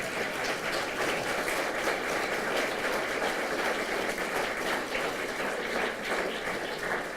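An audience at a women's recognition event claps steadily for students, a dense, sustained wash of applause from a large crowd lasting about seven seconds without speech.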